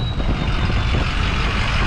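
A heavy built Ford 6.0-liter diesel engine with an upgraded turbo in an F350 pickup rumbles loudly and steadily up close, with a thin high whine riding above the throaty idle.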